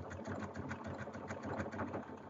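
Sewing machine stitching a denim cushion cover, a faint, steady whirring hum with a rapid pulsing beat, running continuously and close.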